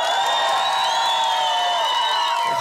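An outdoor karaoke crowd on a square, cheering and whooping for a contestant, loud and continuous, with shrill overlapping voices and shouts.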